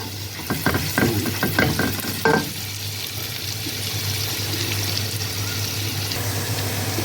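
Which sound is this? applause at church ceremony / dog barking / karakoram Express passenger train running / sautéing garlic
sautéing garlic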